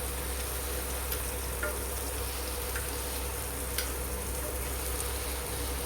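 Paneer pieces fry on a dosa griddle, turned repeatedly, giving a steady, even sizzle throughout with a few faint clicks of a utensil against the pan.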